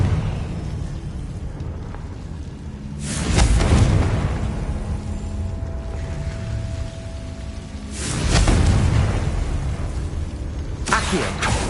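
Two heavy booming blasts of the Confringo fire spell in Hogwarts Legacy, each a rumbling swell lasting about a second, with a third starting at the end over a steady background hum.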